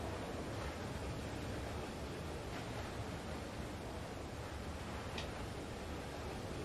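Leaking water in the game Limbo gives a steady, even rush of broadband noise with no breaks, like a constant flow or spray. No one speaks over it.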